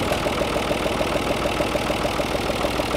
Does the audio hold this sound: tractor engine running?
yes